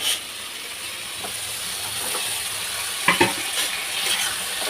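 Eggs frying in a pan on a home stove, a steady hissing sizzle with a few sharp spatters and scraping stirs near the end, close and without talk.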